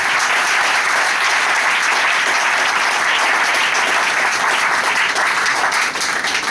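A church congregation at a Sunday service applauding, loud, sustained, dense clapping from a large crowd filling the room without pause.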